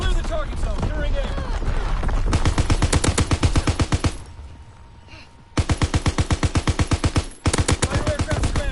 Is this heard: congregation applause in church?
no